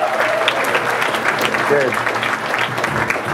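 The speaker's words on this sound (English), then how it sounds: "give this lady a massive, massive round of applause" Steady, dense applause from a large audience fills the whole stretch, loud and continuous, with a brief spoken word over it.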